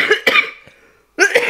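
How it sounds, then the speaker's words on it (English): Three harsh, wet coughs from a person with lung trouble, close and loud, two in quick succession and a third after a short pause. "I've already coughed my guts up."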